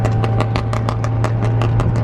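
A car engine runs loud and close on a night drive, with a deep steady drone and a fast, regular pulsing throb over the whole stretch.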